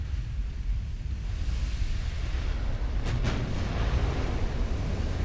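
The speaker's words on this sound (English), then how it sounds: "Oh, yeah, that'll do it. Ammo detonation." A warship's ammunition detonates in the naval game Ultimate Admiral: Dreadnoughts, a deep, continuous roaring rumble that fills the whole stretch, with no distinct separate blasts and no talk.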